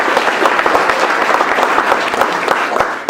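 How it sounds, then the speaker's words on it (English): Dense, steady applause from a large audience at the 2010 Friedman Legacy Day award event in Indianapolis, loud and continuous throughout with no talking over it. "So please give Gordon a big round of applause"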